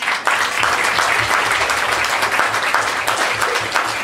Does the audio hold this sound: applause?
yes